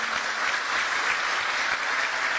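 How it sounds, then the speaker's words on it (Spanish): Graduates at a Professional MBA graduation ceremony in Nicaragua give a loud, dense, unbroken round of applause for their families, filling the hall evenly from start to finish. "mediante un fuerte aplauso muestren el agradecimiento a sus padres, cónyuges, hermanos o familiares"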